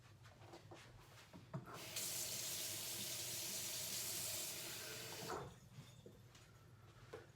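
Warm water runs steadily from a tap for a few seconds, a broad even rush that starts and stops abruptly, with faint clatter around it.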